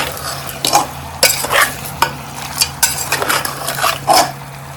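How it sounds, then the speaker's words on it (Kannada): Spices for mutton biryani, seasoned with salt and turmeric, being stirred as they fry in a pot, giving repeated scraping and clinking strokes over a steady sizzle, close and fairly loud, no talking. "ಅದನ್ನು ಎಲ್ಲ ಚೆನ್ನಾಗಿ ತಿರುಗಿಸ್ತೀನಿ."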